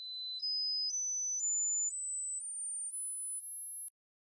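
A test tone from a Kenwood KA-76 amplifier distortion test at about 100 watts per channel steps upward in pitch in eight even jumps, loud and pure, then cuts to silence.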